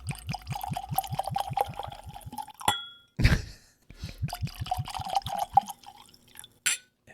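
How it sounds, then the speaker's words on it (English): Candy corn whiskey glugs from a bottle into a glass in rapid rhythmic pulses, pauses with a clink, then pours again, close and clear with no talking. "I'm gonna pour you a big glass."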